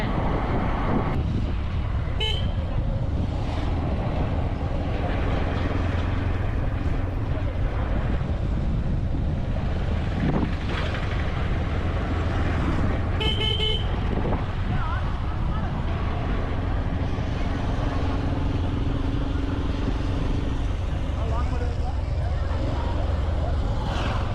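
Vehicle driving along the road up to Anjanadri hill, a steady engine and road rumble throughout with brief horn toots and passing traffic, some voices faintly mixed in.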